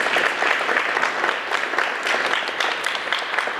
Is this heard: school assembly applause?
yes